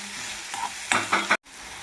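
Onions fry in a pan with a steady sizzle, broken by three quick scraping stirs close by before a brief drop to silence.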